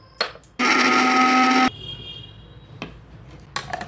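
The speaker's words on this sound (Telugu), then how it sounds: "ఇప్పుడు ఇది మొత్తం మిక్సీ వేసేసుకున్నాం" Kitchen mixer grinder blending bourbon biscuit cake batter with milk: a short loud whirring burst of about a second, then quiet clatter and a brief second whir at the end.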